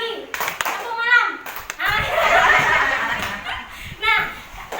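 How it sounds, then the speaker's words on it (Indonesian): Group rhythmic clapping game, tepuk pagi, tepuk malam, played in a classroom setting, with patterned claps interleaved with chanting voices and some laughter from children and adults. "Tepuk pagi, tepuk siang, tepuk sore, tepuk malam, tepuk pagi, tepuk malam."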